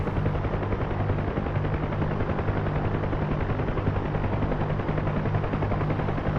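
A Huey helicopter winds down in a flight sim game, its rotor wash a dense, loud, continuous thrumming roar with steady low beating that holds throughout.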